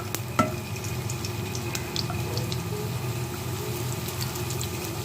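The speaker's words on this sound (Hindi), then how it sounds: "लहसुन को ब्राउन नहीं करना, सिर्फ सौते करना" Garlic gently sautéing with cumin in hot oil over low heat for an onion-tomato chutney, a soft steady sizzle and crackle with a sharp clink near the start and faint scattered ticks throughout.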